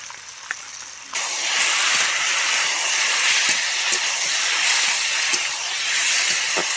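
Fried potatoes, tomato, green chillies and mustard paste go into a hot pan and break into a loud, dense hiss that holds steady, with faint clinks and pops beneath it.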